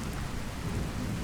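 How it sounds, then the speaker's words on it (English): Steady rain falls in Skyrim, a dense hiss of drops on surfaces with a low rumbling undertone, continuous and even throughout the short stretch with no voices. "I do like the rain in this game."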